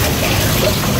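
Water flowing steadily at a fish house with fish ponds, a dense, loud, continuous rushing wash with no pauses.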